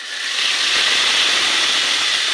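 Spice paste hits hot mustard oil tempered with dried chillies and bursts into a loud, continuous close-up hiss that swells quickly and holds steady.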